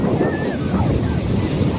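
Sea waves at the beach in Puri, heard as a continuous loud wash of surf mixed with heavy wind buffeting the microphone, with faint voices in the background.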